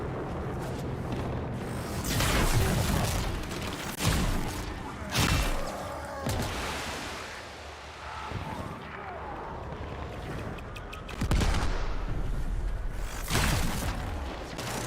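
Blocky Minecraft explosions boom repeatedly, loud and close with heavy crashing bursts in a dense, continuous barrage of game noise.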